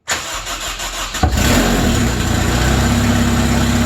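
A Honda Slingshot engine with its muffler not hooked up cranks briefly, then catches and settles into a loud, steady, raw idle close by, with no talk.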